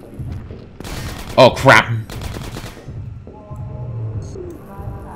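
A combat gunship in Half-Life 2: Episode 1 fires on the player: a loud, rapid burst of heavy shots flanked by rumbling rattles, while a man reacts aloud over the noise.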